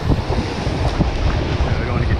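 Strong wind buffets the microphone on the rocky Oregon coast during rock fishing, a continuous loud roar with surf and water noise mixed underneath.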